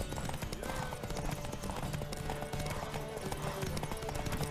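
Rapid clip-clop of a horse's galloping hooves in The Witcher 3: Wild Hunt runs steadily throughout, mixed with music and game sounds, fairly close.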